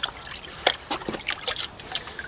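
Mucky water is poured into a big bucket. It makes an uneven trickle with irregular splashes and drips, fairly close and quiet, and no one speaks.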